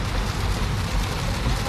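Heavy rain pours steadily outdoors in Atlanta, Georgia, a dense, continuous hiss close by with low rumbling underneath, no voices heard.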